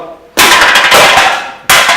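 Two sharp, loud electric discharge cracks from an electromagnetic coil gun firing, the first a long harsh burst and the second starting abruptly near the end, with no talking.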